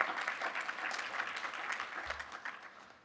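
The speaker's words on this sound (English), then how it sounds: "Another round of applause for the Braymans" Applause from guests at an Art Basel media reception for the Braymans, a soft, fairly distant wash of many hands clapping that holds steady and slowly fades.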